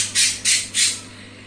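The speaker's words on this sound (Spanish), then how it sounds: "Ya están mis pájaros cantando como no." Three bright, harsh aquarium-room bird calls repeat in an even rhythm over a low steady hum, close by and fairly loud.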